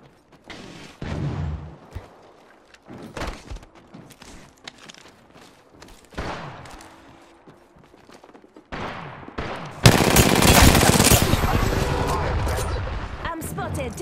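Gunfire in a video game firefight: scattered footsteps, clicks and short shots give way to a loud, sustained barrage of rapid shots through the last few seconds.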